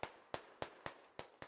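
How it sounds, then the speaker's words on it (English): Six mortar explosions from a Squad tactical shooter match on Fools Road, landing as sharp, evenly spaced booms with short decays, faint and distant. "Some mortars coming in from Papanov."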